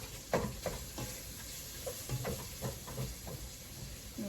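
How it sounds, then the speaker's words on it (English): Ground beef browns in a soup pot over medium-high heat, giving a soft, low sizzle with occasional light clicks and stirring knocks. "Alright, so the beef is in there, it's browning."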